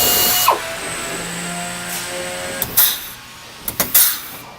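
A power drill bores 13/64 holes through just the roof of a static fleet unit, giving a steady whir with a few short, sharp bursts and clicks near the end.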